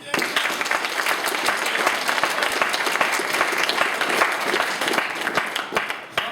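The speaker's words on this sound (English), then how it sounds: "It was a very polite clap, but there was a degree of passion inside." An audience at a comedy science debate breaks into sustained, even applause, a thick continuous patter of many hands clapping at a steady level throughout, with no voices on top.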